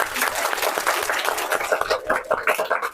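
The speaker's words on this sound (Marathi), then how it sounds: "सगळ्यांसाठी जोरदार टाळ्या." A school audience claps loudly and continuously for everyone at a lecture on moral values in a district council school, dense, close applause for three seconds.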